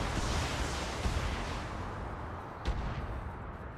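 A mech in the Battletech game fires a volley of missiles, a loud rumbling barrage of launches and blasts that fades out, then a sharp single bang near the end.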